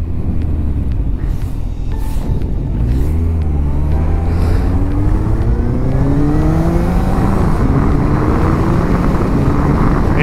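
Suzuki Bandit motorcycle, a roughly 550-pound bike, accelerating through the gears with a loud, steady engine drone whose pitch climbs and resets at each shift, heavy wind rumble throughout.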